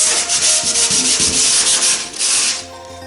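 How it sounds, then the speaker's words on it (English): Steady, close-up rasping of sandpaper scuff-sanding a wooden kayak's fiberglassed surface in quick repeated back-and-forth strokes, with no voices. "I'm just going to give it another scuff sanding"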